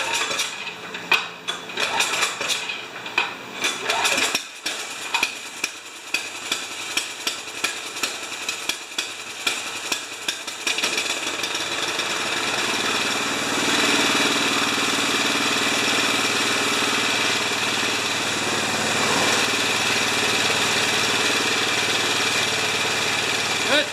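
A Craftsman 13.5 ft-lbs torque snowblower engine that leaks gas starts on choke, first sputtering and knocking, then settling into a steady loud idle close by.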